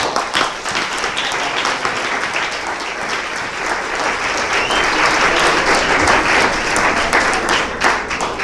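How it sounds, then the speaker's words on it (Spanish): A church congregation breaks into sustained applause during a sermon, many hands clapping in a loud, dense wash that swells slightly toward the end, with a few sharper individual claps standing out. "Si usted cree que el Señor se merece unas palmas de esta manera."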